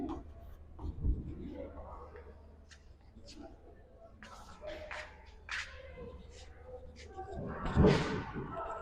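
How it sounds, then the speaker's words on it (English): Handwriting an integral with a pen or marker, scratchy writing strokes coming in short bursts, with a couple of louder thumps and a brief voice heard at points. "Let me just write it down here."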